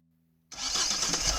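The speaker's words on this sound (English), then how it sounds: "Let's start the engine." A diesel Mahindra XUV300 engine starts up abruptly after silence, cranking straight into a loud, steady running roar close to the microphone with no talk.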